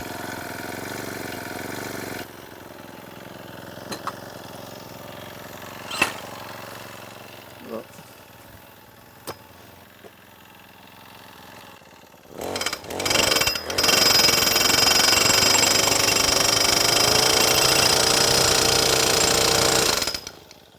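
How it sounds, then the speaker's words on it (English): A gas-powered post pounder for driving fence anchors is pulled into life after some quiet handling, coughs, then settles into a loud, steady, close engine roar with rapid hammering. "So what I'm going to do right now is just start up the pounder."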